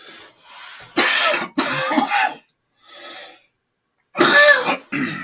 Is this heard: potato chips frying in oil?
no